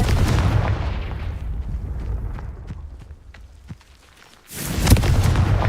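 A spell blast explosion in a duel, heard as a loud rumbling burst that fades over several seconds with scattered sharp cracks, a brief lull, then another heavy boom at the end.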